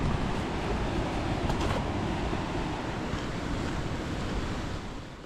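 Rough sea waves crash against rugged coastal rocks near the Yeongdeok sunrise park in Korea, a loud continuous surge mixed with wind noise that eases slightly near the end, with no voices.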